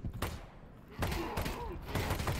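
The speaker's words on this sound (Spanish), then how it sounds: "Le damos siete tiros en la cabeza." Gunfire in the video game Half-Life Alyx comes as several sharp, loud shots in quick succession, with muffled thuds and mechanical clicks between them.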